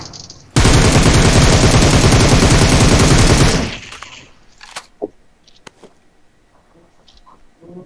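Rapid sustained gunfire from a sniper in a video game, a loud dense burst lasting about three seconds, followed by a few scattered sharp shots and clicks fading into quieter game noise.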